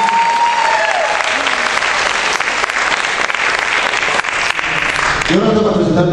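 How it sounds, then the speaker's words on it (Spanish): Loud, dense applause from an audience after a guest representative is introduced, sustained for several seconds, with voices rising near the end. "el aplauso por favor para él"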